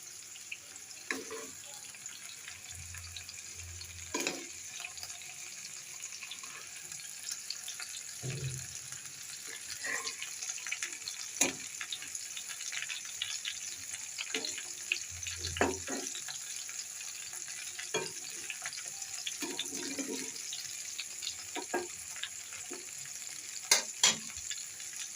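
Spiced fish frying in oil in a home kitchen, a faint continuous sizzle with occasional scrapes, clanks and soft thuds of utensils over a long, quiet stretch.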